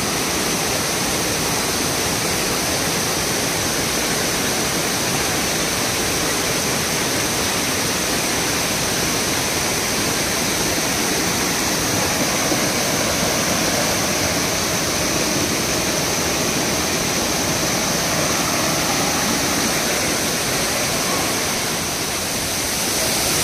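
The Savdav waterfall in Kankavli, Konkan, pours at full force, producing a constant close roar of crashing water that holds steady for the entire stretch without any talking.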